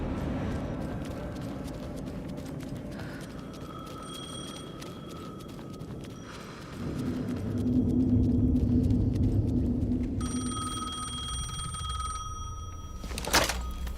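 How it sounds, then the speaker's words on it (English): A telephone rings in the video game Alan Wake 2, with repeated electronic ring bursts over a low rumbling ambient background that swells midway, ending with a sharp bright accent. "The phone again."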